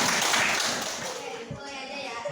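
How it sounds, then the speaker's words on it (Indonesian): A classroom of students clapping their hands for a group about to present, a brief burst of mixed claps that is loudest at first and then tapers, with some voices underneath. "Dulu tepuk tangan."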